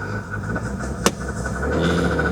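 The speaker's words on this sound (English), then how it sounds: "Let's see if it still idles weird." BMW E36 idling roughly after its battery was reconnected, a steady low engine rumble with an uneven tone and one brief sharp click partway through, no talk.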